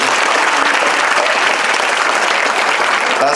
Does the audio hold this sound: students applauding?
yes